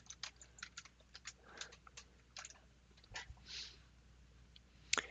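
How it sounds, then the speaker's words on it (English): Quiet keystrokes tapped on a computer keyboard during a workplace scheduling software demo, in irregular bursts of light clicks with a sharper click near the end, no voice. "I can type here too."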